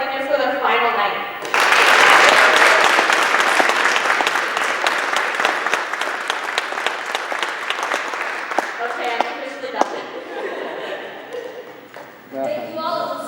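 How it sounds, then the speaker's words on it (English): An audience at a school spring play applauds the seniors on their final night, a dense, loud burst of clapping that swells and holds for about ten seconds before tapering off, with a voice speaking just before and after. "can we please do a round of applause for our seniors for their final night"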